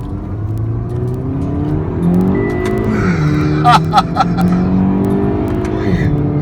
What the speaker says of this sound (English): I love ramming a Mini through the gears.